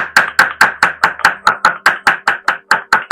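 Washed panchapatre leaves being pounded and crushed by hand, about fourteen sharp, evenly spaced thuds in a steady rhythm, close and loud with no talk.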